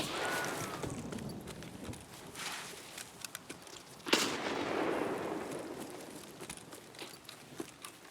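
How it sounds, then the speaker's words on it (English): A thrown grenade explodes in the shooter game Escape From Tarkov: one sharp blast midway, then a rumbling, slowly fading tail, set among scattered distant gunfire-like pops and background game noise. "Now we're gonna use a grenade to get us out of a sticky situation. So you hit G, you toss your nade."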